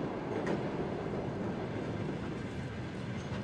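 A passenger train runs on rails with a continuous dense rumble and faint rhythmic wheel clatter, steady and moderately close, with no voices present.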